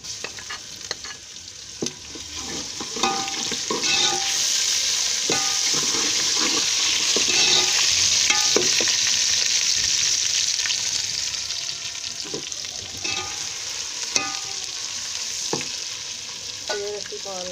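Onions fry in a pan with ginger and garlic added, a steady loud sizzle with frequent stirring scrapes and clicks running throughout, no voices.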